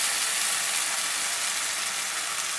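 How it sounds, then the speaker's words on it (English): Marsala wine poured into a hot pan of sweated, caramelized mushrooms, a loud steady hiss and sizzle of deglazing, close and unbroken, with no talking. "now I'm going to put about a quarter cup of marsala and deglaze the pan"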